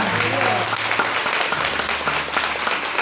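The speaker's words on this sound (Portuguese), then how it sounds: "E aplauda Jesus que merece" A church congregation applauds steadily and loudly for the full stretch, a dense even wash of clapping with a voice faintly underneath.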